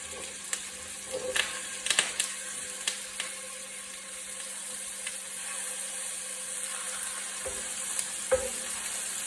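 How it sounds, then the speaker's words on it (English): Meatballs sizzle steadily in hot grapeseed oil in a frying pan, with a constant crackling hiss and occasional clinks and scrapes of a utensil. "the frying pan's on with oil in it, some grapeseed oil. So we're just going to pop them in there"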